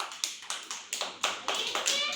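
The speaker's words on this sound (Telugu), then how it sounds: "క్లాప్స్ కొట్టండి" People clap, about nine sharp claps in an even, fairly quick rhythm, close by and moderately loud, with no talk over them.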